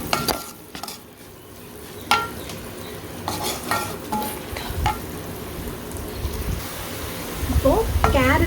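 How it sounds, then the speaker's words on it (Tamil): Carrots toast in a hot pan for fried rice, giving a moderate sizzle with intermittent spatula scrapes and clinks against the metal, busier stirring toward the end. "கேரட்டையும் நல்லா டோஸ்ட் பண்ணி எடுத்துக்கலாம்."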